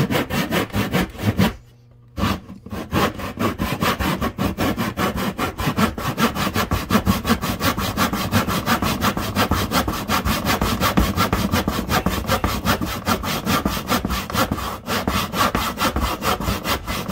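Hand saw cutting lines into a wooden plug for a pocket powder horn with a French spout, a steady rapid back-and-forth rasp held close and loud, pausing briefly near the start before resuming without a break.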